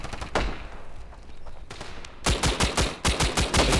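Rapid pistol gunfire in the mobile shooter game Standoff, a few scattered shots at first, then a dense burst of sharp, close, evenly spaced cracks with no talking.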